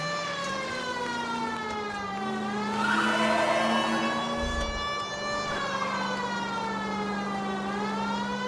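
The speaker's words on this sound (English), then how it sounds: "Police car." A police car siren wails in a video game, rising and falling in slow, smooth sweeps over a steady engine drone, loud and close for the whole stretch.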